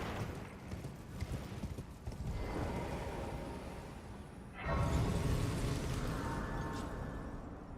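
Rhythmic clip-clop of horse hooves at a steady gallop in Elden Ring, continuous and fairly close, growing louder and fuller partway through against a rumbling backdrop.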